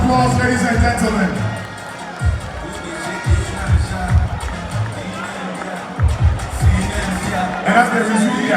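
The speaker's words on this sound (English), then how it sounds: "a big round of applause, ladies and gentlemen." A crowd at a political event stands on stage with Ghana's second lady and a former president while a loudspeaker voice talks and hubbub surrounds them. Scattered cheering and bursts of noise swell and fade beneath the talk.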